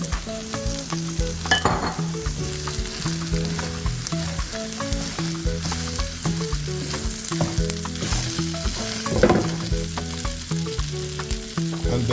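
Shrimp fried rice with eggs and sauce sizzles loudly in a hot pan, a close, continuous crackle punctuated by rhythmic stirring and tossing strokes, with no talking.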